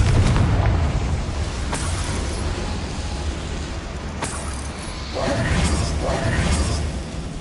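A Confringo spell explodes in Hogwarts Legacy with a loud, deep booming blast that rumbles on, followed by a whooshing surge and further thuds over a steady game background.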